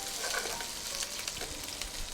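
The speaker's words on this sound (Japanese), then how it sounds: "ベーコンをこれぐらい、美味しそうだなってぐらいに焼いてあげますね。" Bacon frying in a pan, a steady, close hiss and crackle of sizzling fat with small pops, continuous and without talk.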